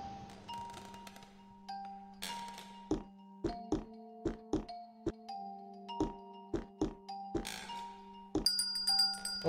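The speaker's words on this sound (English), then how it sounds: "Doorbell." Doorbell in the video game The Supper, a run of sharp chiming strikes repeating in a quick uneven rhythm over a steady tonal game background, fairly loud and with no talking.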